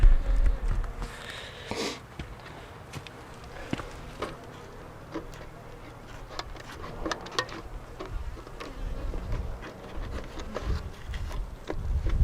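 Honey bees hum in a steady, close buzz around a hive while sugar water and ant barriers are set up, with occasional louder passes and light handling noises.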